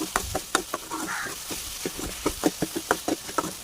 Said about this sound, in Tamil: இந்த உருளைக்கிழங்கு நல்லா வதங்கட்டும்